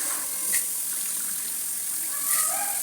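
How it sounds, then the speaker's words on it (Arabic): Hot water runs steadily from a tap during washing up, a continuous close hiss of flowing water with brief splashy swells. "هنا راني داير الماء حامي"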